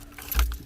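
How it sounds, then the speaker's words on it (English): A brief jangle of keys being grabbed in a hurry, close and clear, with a low thump from a car alongside. "Grab your keys, grab your keys."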